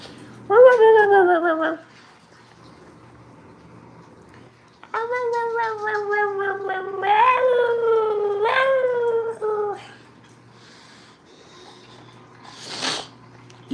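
A pet cat meows repeatedly and loudly at close range in a kitchen during steak cooking, in several drawn-out cries separated by pauses, with a brief snort or sneeze near the end.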